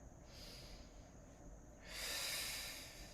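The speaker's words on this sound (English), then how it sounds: "Let's add a deep breath." Someone takes a deep breath during a Pilates session on a long foam roller: a soft, airy exhale followed by a louder, rushing inhale, close and alone with no talking.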